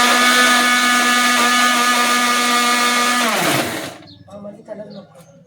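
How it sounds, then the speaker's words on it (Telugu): A mixer grinder whirs loudly while grinding ginger, green chillies and cumin into a paste, a steady high motor drone for about three and a half seconds that cuts off sharply, followed by faint clatter and settling noises. "అల్లం, పచ్చిమిరపకాయలు, కరివేపాకు పేస్ట్ పట్టేసుకుందామండి మిక్సీలో"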